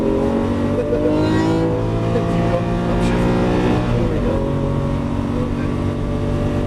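A Lamborghini Aventador LP700-4 V12 engine accelerates up through the revs, loud and close with rising engine tones and a gear change midway.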